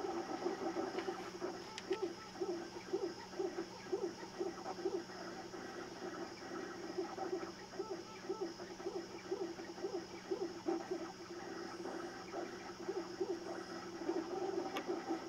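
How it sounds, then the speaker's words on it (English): A MakerBot 3D printer runs quietly, giving a steady low whir with a regular train of soft motor pulses repeating throughout, with no talking. "You can hear the MakerBot running in the background."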